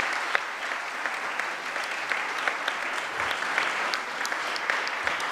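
Steady audience applause fills a conference debate hall, a dense even patter of many hands clapping at moderate distance with no voices over it.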